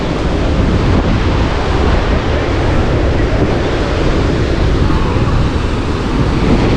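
Loud, steady roar of rushing monsoon-season water at Gaganachukki and Barachukki waterfalls on the Kaveri River, filling the scene without pause, a dense churning wash close by.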